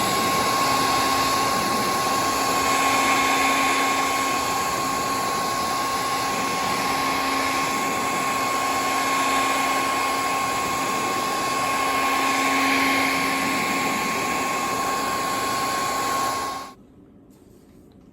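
Steady, loud hair dryer blowing nonstop for about sixteen seconds to heat the adhesive behind a car badge, then cutting off abruptly into near silence.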